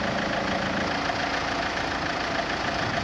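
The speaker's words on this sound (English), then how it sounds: "You hear the pump going now." A Citroën C5's suspension pump runs while raising the car, a steady, unbroken mechanical drone with a faint engine-like hum that holds at an even level throughout.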